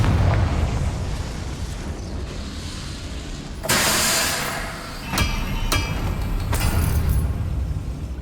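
A Confringo fire spell cast in Hogwarts Legacy bursts with a sudden loud whooshing blast, followed by a few sharp crackling pops over a rumbling low ambient background.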